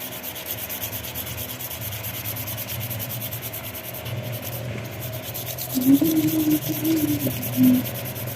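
Sandpaper rubbing across a component from the CVT of a Honda Vario 125 fuel-injected scooter, a steady close scraping that runs on throughout, with a faint hum under it and louder strokes near the end.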